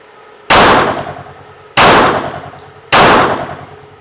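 Three loud, close single gunshots from a Zev OZ9 HyperComp ported pistol, spaced roughly a second apart. Each gives a sharp crack followed by a short ringing decay, with no talking between shots.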